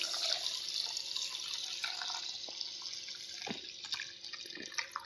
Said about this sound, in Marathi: आता आपण याला 2 ते 3 पाण्याने धुवून घेऊयात।